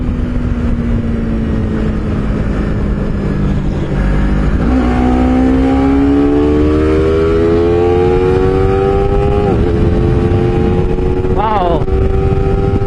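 A Honda CBR 250RR sport motorcycle ridden on the road, its engine note climbing steadily through the revs with a couple of brief gear-change dips, loud and close under constant wind noise.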